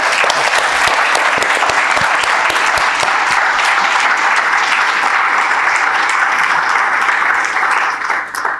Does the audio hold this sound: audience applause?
yes